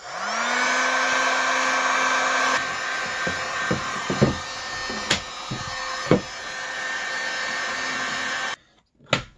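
Heat gun blowing on the tip of a PVC pipe shielded by a block of wood, a loud steady whooshing roar with a few light knocks over it, cutting off abruptly near the end.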